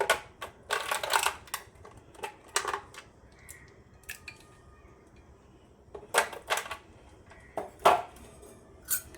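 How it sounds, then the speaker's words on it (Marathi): Two ice cubes drop into a glass of freshly made orange juice, giving a run of sharp, close clinks and knocks in uneven clusters with quiet gaps between them. "याच्यात आता मी बर्फाचे दोन तुकडे घालते"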